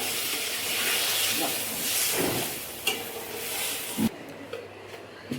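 A small amount of water is poured onto fried spice paste in a hot pan, giving a loud, close hiss and sizzle with steam that gradually settles, broken by a few sharp clacks of a utensil.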